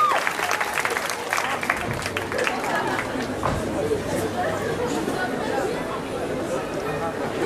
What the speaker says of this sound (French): On l'applaudit quand même très fort.